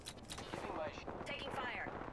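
Gunfire in the Apex Legends video game, bursts of shots crackling through a busy mix with a voice talking over them.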